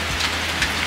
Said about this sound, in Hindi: यहाँ पर आप लोग देख सकते हो कितना ज़ोरों शोरों से बारिश हो रही है।